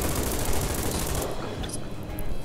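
Rapid cannon and gunfire bursts from a tank in Garry's Mod, loud and dense, with bright blasts filling the first half and then thinning into scattered reports.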